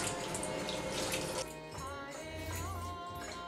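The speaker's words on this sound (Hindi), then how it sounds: "अब इसमें हम पानी डालेंगे" Water is poured into cornstarch and salt in a container, a close splashing trickle that shifts to a quieter, steady pour partway through.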